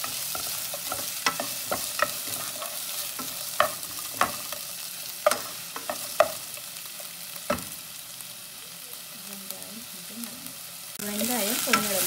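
Onions sautéing in a pan for kara kuzhambu, an even sizzle punctuated by sharp spatula taps and scrapes at irregular intervals, ending in a louder, hissier burst of frying.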